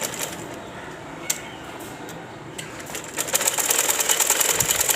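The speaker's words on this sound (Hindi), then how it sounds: "इस तरीके से सिलाई लगाते जाना है।" A sewing machine stitches cloth for a ladies' sleeve design with a steady, close mechanical whir that grows faster and louder toward the end, and no one talks.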